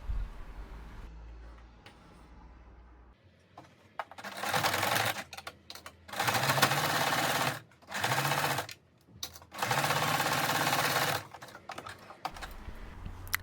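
A sewing machine stitching the left side seam of wide-waistband pants, heard as several loud close-up bursts of fast whirring and clatter separated by short pauses, after a quiet start.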